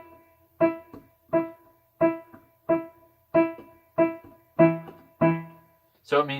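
Short, detached piano notes played staccato: about nine crisp, evenly spaced strikes, each ringing briefly before being damped, played alone and up close, with a final quick flourish at the end.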